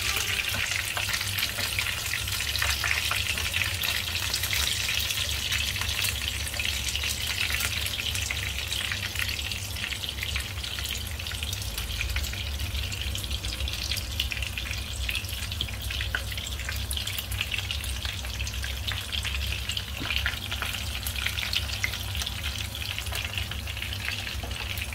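Lumpiang shanghai rolls filled with canned tuna deep-frying in oil until golden brown, a dense, steady bubbling sizzle that stays loud and unbroken throughout.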